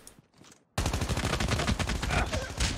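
Rapid automatic gunfire from Call of Duty Mobile starting abruptly after a brief quiet moment, then a dense, loud, sustained burst of shots continuing to the end.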